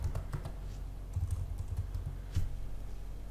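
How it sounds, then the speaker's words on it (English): Typing on a computer keyboard, a quiet, steady run of close key clicks in an uneven rhythm with no voices. "Then we type another variable,"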